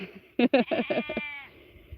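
A goat bleats several times in a quick, wavering run of calls, close and loud, with quiet farmyard background around it.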